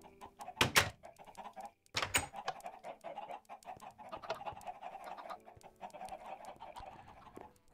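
Chickens in the Minecraft video game cluck in short repeated bursts, with a couple of louder sharp sounds in between. Clucking comes close and continues quietly through the rest.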